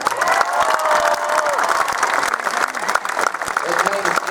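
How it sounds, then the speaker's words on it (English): An audience at the Armageddon 2016 convention in Christchurch gives a loud round of applause with cheering, the clapping dense and continuous while voices talk over it. "So Christchurch, for a round of applause for Ruth and Corin."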